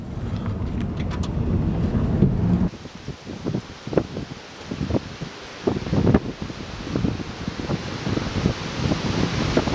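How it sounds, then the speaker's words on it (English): Powerful wind gusts roar during a severe storm in southeastern South Dakota, loud and continuous, with heavy buffeting against the microphone, rushing surges and rustling trees. "Very powerful gust coming in. This one's roaring."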